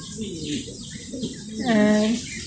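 Mundian pigeons at a farm coo in a short, low, rolling call near the end, standing out over faint chirps and steady background hiss.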